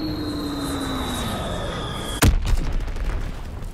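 A descending aircraft whine in Call of Duty WWII fades under battle noise, then a sudden loud bomb blast hits, followed by rumbling explosions from the bombing run.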